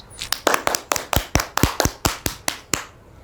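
A small burst of hand claps, around a dozen quick, sharp claps in a steady rhythm, close by, fading out at the end, during Avatar World game play.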